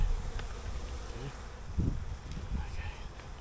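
Honeybees from a colony thick with burr comb buzz in a dense, steady drone around the open hive, with a few louder low thumps as frames are handled nearby.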